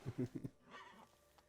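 A horse whinnies in The Witcher video game in a short burst of rising and falling calls, fairly close and clear, with no talking over it.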